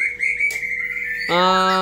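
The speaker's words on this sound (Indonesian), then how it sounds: "untuk burung yang di depan layar kaca teman ini, yaitu murai batu saya yang tipe panas" A caged white-rumped shama sings close by, a sustained clear whistle breaking into a rapid burst of rich, harmonic notes and a short chirp, with no other sounds.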